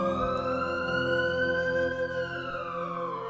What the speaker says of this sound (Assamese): ক'ৰবাত চাইৰেন মাৰি গাড়ী এখন পাৰ হৈ গৈছে।